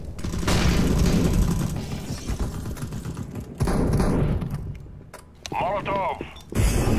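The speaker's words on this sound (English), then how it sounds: "Throwing flashbang." A flashbang grenade thrown amid a Counter-Strike: Global Offensive firefight, heavy booms and mechanical clatter over continuous gunfire, with a brief dip in noise before the chaos resumes.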